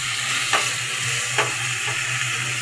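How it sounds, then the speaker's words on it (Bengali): Shredded cabbage and spring onion fry in a pan with a constant steady sizzle, broken by three soft scrapes of stirring and a low steady hum underneath, no voices. "ভালোভাবে নেড়ে চেড়ে চুলাটা হালকা আঁচে দিয়ে সব ভেজিটেবলটা ভাজি করবো"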